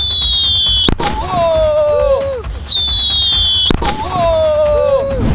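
A box of fireworks goes off in a loud sequence: sharp bangs near one, three and four seconds, each followed by whistling tones that glide up and down and crackle as they fade.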